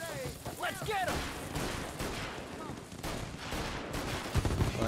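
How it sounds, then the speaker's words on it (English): Gunfire in the Mafia Definitive Edition video game, a burst of shots ringing out amid a busy game soundscape with chirping and clatter, steady and fairly loud throughout. "For one nice clean shot. Let's get him!"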